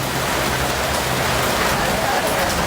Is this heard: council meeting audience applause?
no